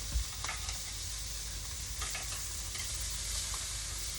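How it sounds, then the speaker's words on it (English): Squash and zucchini on a grill being flipped, a constant close sizzle with a few faint clicks and scrapes of turning over the hiss. "I'm gonna flip the veggies."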